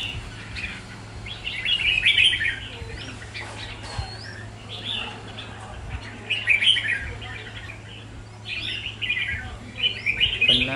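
Caged competition songbird sings repeated bright chirping phrases in short bursts, moderately close, over a low steady background hum.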